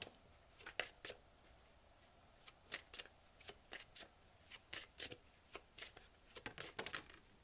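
Tarot cards are shuffled and drawn in quick, soft riffling bursts, close and fairly quiet, repeating irregularly with no talking.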